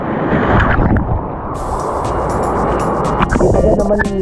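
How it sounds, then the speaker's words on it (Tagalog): Strong sea waves churn loudly and steadily during crabbing off a coast in Dunedin, New Zealand, with a continuous wash of surf mixed with wind buffeting the microphone and no speech. "Malakas kasi ang alon."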